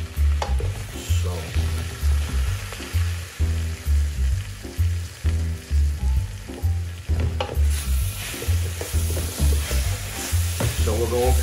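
Spinach with onions and garlic sizzles in a pan while a spoon stirs it in repeated scraping strokes, close and fairly steady, with rhythmic clattering over a constant frying hiss.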